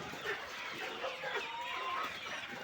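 Isa Brown layer chickens, roosters among them, cluck steadily as a busy flock close by, with overlapping calls filling the short stretch and no talking.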